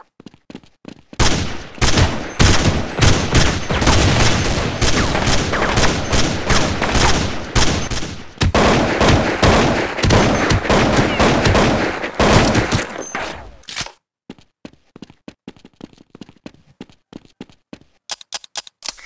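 Long, loud bursts of rapid gunfire in Counter-Strike 1.6, nearly continuous for over ten seconds, followed by scattered single shots as the shooting thins out.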